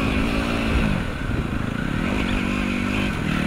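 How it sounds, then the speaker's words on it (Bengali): A motorcycle engine hums steadily close by, its low drone rising and dipping slightly as the bike rides along through Birulia rose village in Savar. "দেখি কতদূর পর্যন্ত যাওয়া যায় বাইক নিয়ে।"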